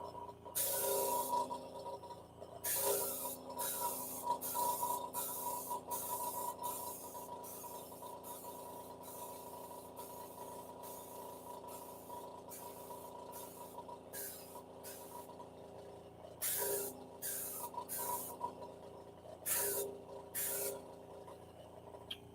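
A gravity-feed airbrush sprays paint onto a model of the Orville, giving faint, repeated short bursts of hissing air with brief gaps between them.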